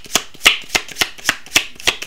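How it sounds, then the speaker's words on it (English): Deck of tarot-style cards being shuffled by hand, a rapid series of about eight crisp riffling snaps in a steady rhythm, close and clear with no voices. "Let's pull from this deck."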